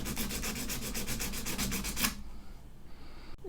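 Quick back-and-forth rubbing on a contact of an M50 stopwatch, a steady rasping scrape with rapid even strokes for about two seconds, then stopping into a quiet room.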